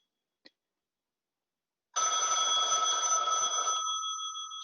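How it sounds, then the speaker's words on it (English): A telephone rings: a faint click, then a steady, loud electronic ring that goes on for a few seconds with no talk over it. "Oh, sorry, my phone's ringing."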